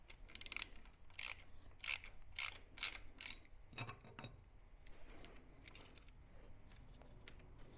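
Ratchet loosening a bolt on a Harley-Davidson Iron 883 motorcycle, a series of sharp clicking pawl strokes in a quick uneven rhythm up close, then fainter handling noises.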